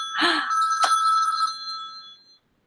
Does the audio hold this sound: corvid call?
no